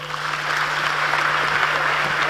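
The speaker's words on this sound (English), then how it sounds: "why don't you clap for yourself?" An audience at a Ghana youth dialogue session applauds itself with steady, dense clapping that fills a large room. It goes on without a break, and no one speaks over it.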